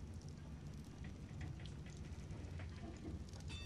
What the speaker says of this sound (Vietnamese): Trời mưa đi luôn.